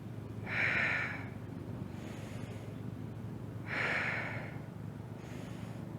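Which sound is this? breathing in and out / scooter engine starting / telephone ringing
breathing in and out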